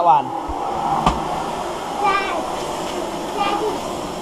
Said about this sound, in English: Make sure you don't vacuum any Lego up.